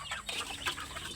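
A crowd of chickens clucking together close by, a dense and busy flock sound.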